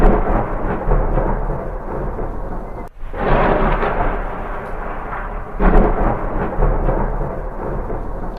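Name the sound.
thunder and rain sound effect in stage drama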